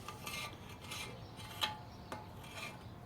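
Paint stripper being scraped off an aluminum wheel: a series of short rasping scrapes, fairly close and moderately loud, with a couple of sharper scratches between strokes.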